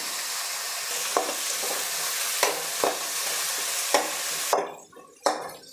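Vegetables with curry leaves and chillies sizzle steadily in hot oil, with a few distinct scraping stirs of a spatula and a brief drop in the frying noise near the end.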